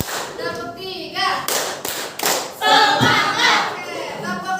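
A group claps in short bursts, giving a few sharp, scattered hits between stretches of talk in a lively classroom-style setting, with voices speaking over and around the clapping.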